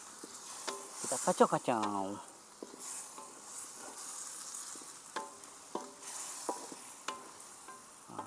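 Food being stirred in a pot over a traditional wood-fired stove, soft scraping and sizzling with intermittent clicks of the utensil against the pot, close and fairly quiet, with a brief voice early on.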